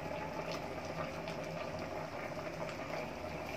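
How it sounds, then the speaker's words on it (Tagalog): Coconut milk stew with tilapia, green chili and eggplant bubbles in a pot, a dense continuous simmering hiss with fine popping, steady and close throughout. "Tapos pakulan uli natin."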